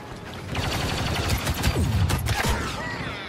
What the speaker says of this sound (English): What the heck is shooting me?